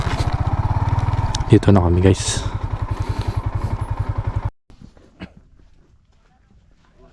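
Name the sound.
many motorcycles passing at a farm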